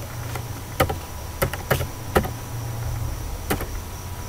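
Keys on a computer keyboard clack while code is typed, a handful of sharp, separate taps at an uneven pace over a quiet room hum, close by.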